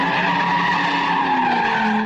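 Tires squeal and skid in a long, continuous screech as a car spins donuts at a street sideshow in Oakland, loud and close with an engine straining underneath.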